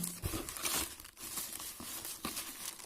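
Plastic packets crinkling and rustling up close as a parcel of flower bulbs (lily, muscari, botanical tulips) is unpacked, with irregular crackly bursts and brief pauses.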